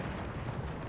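A dense, roaring explosion from the video game Once Human fills the short moment with a loud, sustained low rumble and no clear talk.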